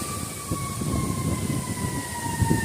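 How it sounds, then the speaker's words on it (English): A steady wailing siren tone rising over low rumbling engine and traffic noise, moderately loud and continuous, with no one speaking. "We got sirens."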